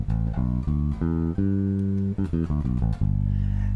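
A major pentatonic scale plays as a teaching demonstration: a run of sustained, evenly spaced single notes moving up and back down, loud and clear with no voice.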